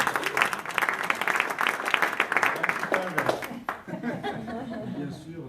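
An audience at a presentation of the 59th Jazz à Juan festival programme bursts into applause, a dense run of clapping with some chuckles that fades after a few seconds as a voice carries on speaking.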